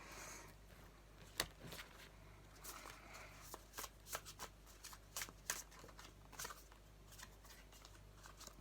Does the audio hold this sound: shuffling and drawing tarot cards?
yes